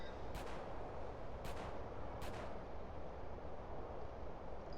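Gunfire in GTA San Andreas: three sharp shots spaced about a second apart crack over a dense, constant wash of game noise and rumble, with no voices.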